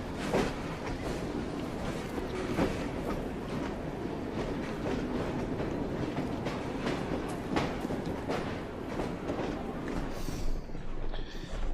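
A train rumbles past in a video game as a loud, continuous roar of rolling wheels and rattling cars, with rhythmic clacking and no talking.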